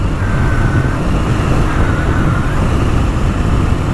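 Kawasaki KLX230 motorcycle engine pulling hard at road speed, a loud, steady roar blended with heavy wind and road rush, no pauses, close to the rider.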